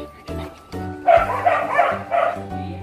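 Two trained dogs out on a walk give a few yipping barks close to the microphone, with brief bursts of excited sound over a short stretch.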